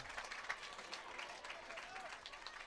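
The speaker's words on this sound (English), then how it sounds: "Nice applause from the Husky faithful here." Crowd of Washington Husky home fans applauding at a Big Ten women's soccer match, a faint, distant patter of clapping across a large open stadium with a slight cheer, steady for a few seconds.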